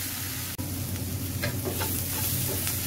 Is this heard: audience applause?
no